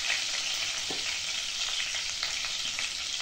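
Spices and onion-garlic masala sizzling in a pan for mutton curry, with steady close frying hiss and a few soft scraping stirs throughout, no voices.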